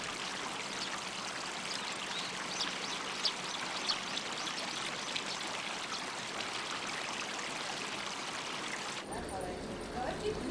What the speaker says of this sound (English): Cleaned up by the carp, the tank water eventually rejoins the channel.